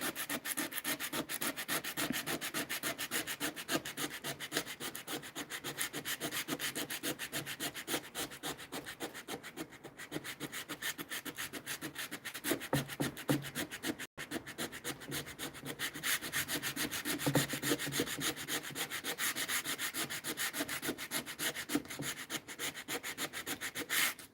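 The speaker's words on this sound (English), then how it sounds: "Now I'm just feathering down the edge of this paint." Worn 80-grit sandpaper rubs steadily back and forth, feathering a paint edge on a wooden cabinet door, a close, continuous scratchy sanding with a quick, even stroke rhythm and no voices.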